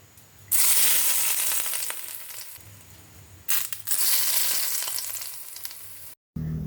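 Green chili sambal sautéing in a pan gives a loud, steady sizzle and fry that runs with brief dips and a short break, with no voices.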